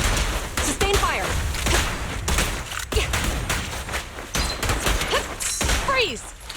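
Sustained gunfire in the video game Zenless Zone Zero, a dense run of rapid shots and thuds with game voices and effects layered over it.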